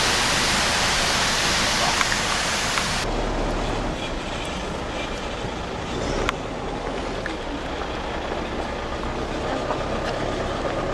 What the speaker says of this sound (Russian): Какой водопад.